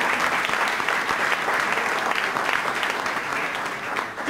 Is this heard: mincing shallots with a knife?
no